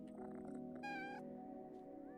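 A single clear meow from a cat in the video game PowerWash Simulator 2 rings out briefly, with a fainter meow later, all over quiet game music.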